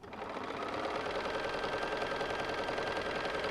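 A sewing machine runs a continuous straight stitch on Christmas stocking fabric, a steady rapid mechanical chatter held at an even level for a few seconds, close by with no voices.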